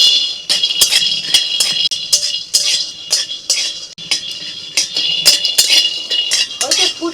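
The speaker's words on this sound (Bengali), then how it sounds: "বাদামগুলো এখন শুকনো কড়াইতে ভেজে নেব" Peanuts dry-roasting in a dry wok for an egg and lal shak dish, heard as a steady metallic rattle and clinking of stirring against the pan, with repeated scraping strokes and no talk.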